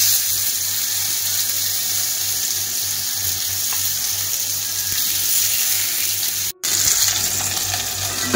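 Marinated fish shallow-frying in a little oil in a pan, giving a steady, close sizzle with a constant crackling hiss that carries on almost unbroken, with only a brief dropout near the end.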